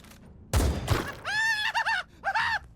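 Disrupt shot gunfire in a Warhammer 40K video game: a loud, close double burst of heavy shots, followed by drawn-out groaning, voice-like tones that rise and fall.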